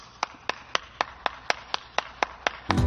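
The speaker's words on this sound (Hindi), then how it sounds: "नाचो झूमो और हाथ करा के तालियां बजाओ" Hands clap about ten times in an even, steady rhythm, each clap crisp and close, before a louder burst of other sound cuts in at the very end.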